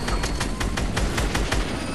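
Gunfire in the Fortnite Season 2 video game sounds as a rapid series of evenly spaced shots, loud and continuous across the whole stretch, with no talking over it.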